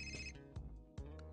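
A phone rings in Fahrenheit: Indigo Prophecy, a faint high electronic ringtone briefly audible at the start beneath low music and a few soft thumps.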